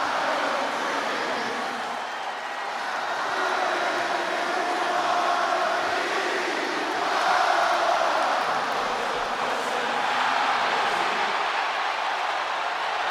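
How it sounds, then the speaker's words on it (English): Arena crowd in the WWE 2K26 wrestling game roaring a sustained ovation for CM Punk in his hometown Chicago, a dense, steady wall of cheering that swells slightly midway. "Just listen to this ovation for the Second City Saint."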